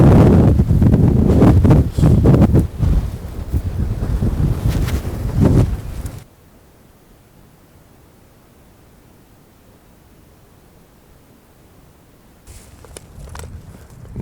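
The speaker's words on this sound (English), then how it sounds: "It's a tad on the windy side today." Strong wind gusts buffet the microphone outdoors in Nevada elk country, loud and roaring for about six seconds, then falling to near quiet before another gust rises.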